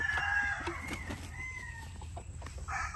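Bulik roosters and chickens on a farm, several of them streaked with white, cluck and call in a few sharp bursts close by, with a steady background hum running underneath.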